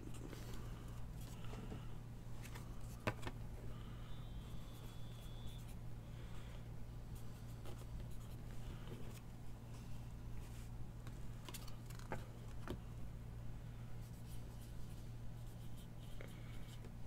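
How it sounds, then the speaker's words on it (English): Pen writing names down on paper during a baseball card box opening, a faint scratching and tapping over a steady low hum, with no talking. "I'm gonna write the names down"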